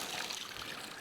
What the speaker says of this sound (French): Une fontaine, est-ce que ça marche?